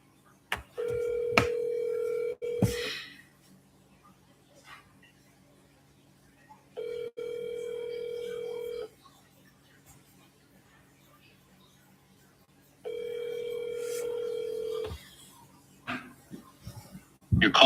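A telephone call rings three times before going to voicemail. Each ring is a steady two-second electronic tone, separated by long quiet gaps, with faint background noise between rings.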